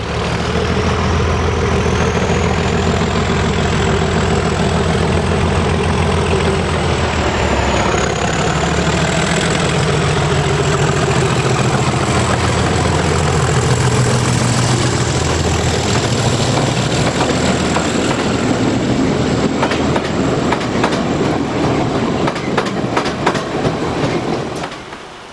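British Class 37 diesel locomotive 37685 idles with a loud, steady engine throb, then passes hauling a Class 334 unit, wheels clattering rhythmically over rail joints as the engine note shifts, up close with no voices.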